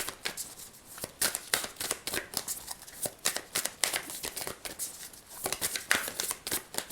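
Rapid papery riffling of tarot cards being shuffled, in repeated bursts with short pauses, close and fairly quiet, no voices.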